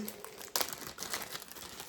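A Barbie doll clothing set rustles inside a small plastic bag, a quick close crinkling burst with one sharper rustle, faint and heard alone.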